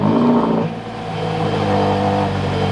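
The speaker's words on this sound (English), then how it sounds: "this is a cold startup on that GTC4 Lusso" A Ferrari GTC4 Lusso engine fires on a cold start, opening with a loud rev flare that drops back into a steady, strong high idle that holds near and alone throughout.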